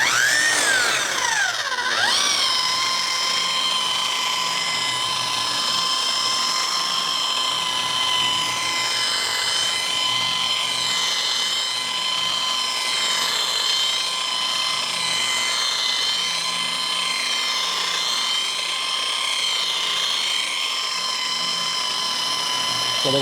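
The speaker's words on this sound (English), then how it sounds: "start polishing." A car paint polisher runs continuously during a Sonax ceramic coating job, producing a steady high-pitched motor whine that rises at the start and then holds at a loud, even pitch throughout.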